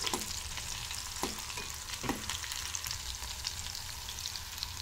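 Green chillies fry in hot oil in a pan, with a dense, close crackling sizzle and a few sharp spatula scrapes and pops, with no talking.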